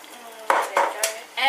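A metal utensil stirs pepper into a cheese sauce boiling in a pot for macaroni and cheese, making several close, distinct scrapes and clinks against the pot in an uneven rhythm.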